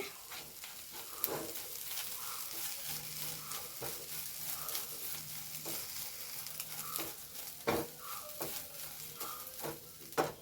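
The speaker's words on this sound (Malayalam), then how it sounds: "കുറച്ച് മല്ലി ഇട്ട് കൊടുത്തു കുറച്ച് വെളിച്ചെണ്ണയും കൂടെ ഒഴിച്ചു കൊടുക്കാം കേട്ടോ മല്ലി ഒന്ന് മൂക്കട്ടെ" Coriander seeds fry in coconut oil with a soft, continuous sizzle, broken by repeated scrapes and stirring clinks of a utensil against the pan, fairly quiet and close.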